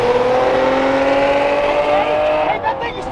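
A loud Lamborghini Revuelto V12 sports car engine roars close by, its exhaust note rising and holding steady, then dipping briefly near the end.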